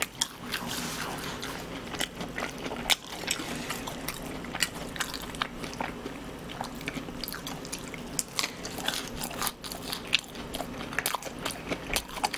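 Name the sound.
eating fried chicken, french fries, cheese sticks and salad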